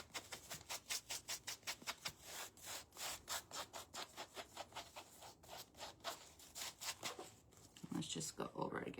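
Dry rhythmic rubbing of coffee grounds and cinnamon into a fabric craft egg, close and steady strokes repeating through the clip, with a brief burst of speech near the end.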